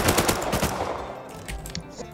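MP5 gunfire in the survival game Rust, a loud rapid automatic burst up front that fades into quieter trailing shots within a couple of seconds.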